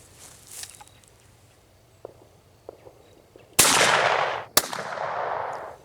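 A Stevens 22/410 combination gun fires a .410 shell outdoors at a distant target, a sudden loud blast followed by a second sharp crack and a long ringing tail after a quiet lead-in.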